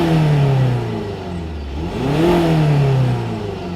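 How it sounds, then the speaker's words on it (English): Skoda Kodiaq vRS diesel engine revving twice, rising and falling in pitch with a dip between the two, a close, steady, slightly clattery drone with no talking. "So normally, it just sounds like a normal diesel."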